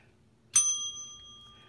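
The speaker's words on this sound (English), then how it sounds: "Bell ringer for a single, a double, and a triple." A single bell struck once during a baseball card break, ringing out loud and clear with a bright metallic strike that leaves a long, steady ring slowly fading over more than a second, with no talk over it.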